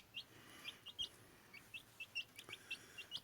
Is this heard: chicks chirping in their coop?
yes